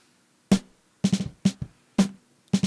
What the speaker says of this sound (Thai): เรามาฟังเสียงสแนร์ต้นฉบับกันครับที่ยังไม่ได้ผ่านนะครับ